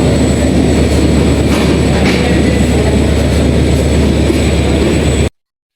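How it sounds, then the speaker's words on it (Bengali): Loud, constant rumbling roar of the Rupsha Simanta Express departing Khulna railway station close by, steady throughout before cutting off abruptly. "এখন খুলনা রেল স্টেশন থেকে ছেড়ে যাচ্ছে রাজশাহীগামী রূপসা সীমান্ত এক্সপ্রেস"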